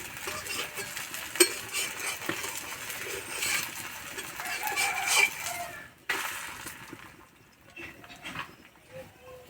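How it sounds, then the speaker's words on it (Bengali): Flatbread made from refined flour fries in a little oil, giving a steady hiss for about six seconds that drops to a quieter, fainter sizzle with scattered clinks. "এপিট ওপিট ভালো করে ভেজে নিয়েছি তুলে নেব"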